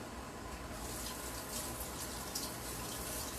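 Tap water runs steadily into a kitchen sink during hand washing, a continuous close hiss and splash with no voices.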